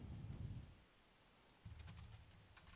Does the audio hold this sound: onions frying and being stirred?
no